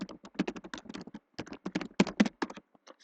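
Rapid, uneven keystrokes on a computer keyboard during task entry in MS Project, a steady stream of close clicks with brief pauses, heard alone without speech.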